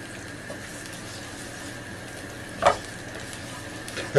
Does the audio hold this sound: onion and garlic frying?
yes